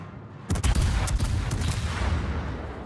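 A cruiser's gun salvo in the World of Warships naval video game: a quick cluster of heavy booming shots fired in rapid succession, followed by a rumbling tail, loud and close.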